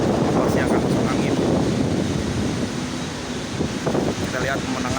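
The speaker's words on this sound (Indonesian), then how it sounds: "dan anginnya terlalu tinggi" Strong wind at 58 meters height buffets the microphone with a loud, continuous roar and rumble, while a person speaks over it.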